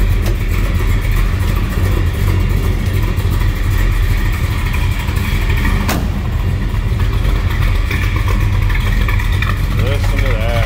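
A 1967 Chevrolet Chevy II Nova engine runs steadily at a healthy idle, a loud, continuous low rumble close by with a brief sharp click midway and faint background voices.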